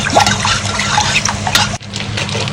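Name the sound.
water poured into tomato sauce on the stove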